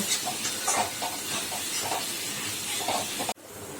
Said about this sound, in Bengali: এইবার মশলাটা আমি ভালো করে কষিয়ে নেব।